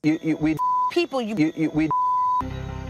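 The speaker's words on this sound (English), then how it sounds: "The censorship bleep guy has a busy day at work today." Two long steady censorship bleep tones cut into a stretch of reality-TV talking, each sounding for under half a second, followed by a brief buzzy tone at the end.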